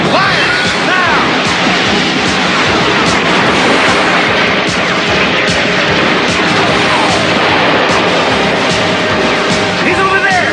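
Cartoon gunfire erupts in a dense, loud, continuous barrage of blasts and crashes in an animated RoboCop battle, with no pause in the noise throughout.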